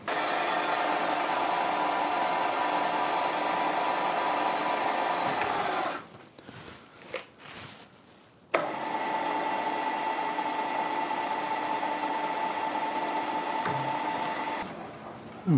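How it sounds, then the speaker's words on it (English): M8 threads are tapped into holes in a metal mounting plate for a lathe milling slide. A steady mechanical whine runs close and constant, breaks off for a couple of seconds midway amid a few clunks, then resumes. "I just need to tap them now for an M8 thread."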